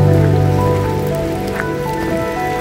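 Steady rain pattering on a forest trail near waterfalls, a dense, even hiss with scattered drips, close and continuous throughout with no talking.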